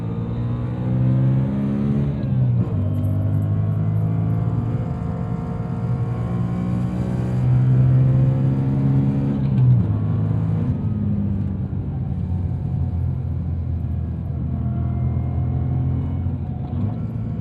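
The engine of a 2011 BMW M3 E92 Competition drones loudly from inside the cabin, its pitch sweeping up and down as the throttle is opened and eased off repeatedly.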